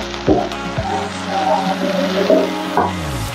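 Spice paste for Hyderabadi murg masala sizzles and fries steadily in a pan, close and loud, with a few soft scrapes of stirring and no talking.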